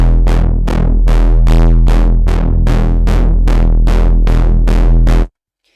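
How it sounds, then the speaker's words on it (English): A Reese bass synth with automation, called Wonky Reese, plays loud and alone as a dense low drone, swept by about fourteen rhythmic filter pulses that brighten and fade in steady succession before it cuts off. "this is just a Reese I made with automation attached to it that just sounds like this."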